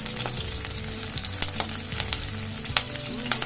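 Onion pieces fry in oil for methi dal, a dense continuous sizzle close by, broken by repeated clicks and scrapes of a spoon stirring through the pan, with no talking.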